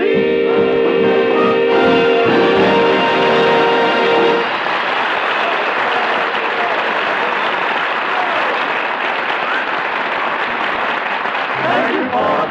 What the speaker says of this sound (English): Thank you for applauding our musical aggression.